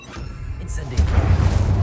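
Incendio fire spell cast in the Hogwarts Legacy video game, a whooshing burst that swells into a sustained roaring crackle of flame, fairly loud and close.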